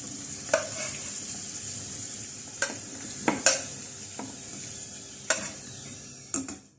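Velvet chicken balls deep-frying in hot oil give a steady, bright sizzle and hiss, broken by occasional sharp pops and light clinks of stirring at close range, with no voices.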